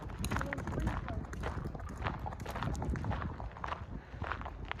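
Horse hooves clip-clopping along a trail, irregular soft thuds moving at a walking pace, fairly close, with people talking over them.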